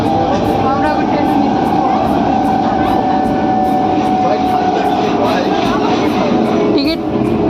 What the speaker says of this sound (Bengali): আমরা এখন ট্রেনে